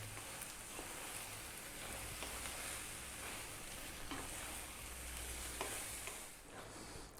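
A can of tomatoes simmers in a pan for a nut roast over just-above-medium heat, giving a steady, soft bubbling sizzle throughout, with no talking.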